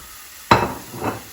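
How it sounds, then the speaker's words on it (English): Garlic hits a hot pan for Spanish garlic shrimp with a sudden loud sizzle and burst, settling into a hiss, then a second surge of frying as it is stirred, with no voices. "Now, I'm going to add my garlic."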